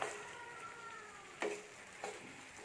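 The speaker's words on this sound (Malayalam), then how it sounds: "ഇനി നമുക്കിത് നന്നായിട്ടൊന്ന് ഇളക്കി കൊടുക്കാം. മസാല മൊത്തം പിടിക്കാനായിട്ട്" Chicken being stirred into cooked masala in a pan for dhaba-style chicken curry: a faint, steady sizzle with two brief scraping stirs close by, and no talking.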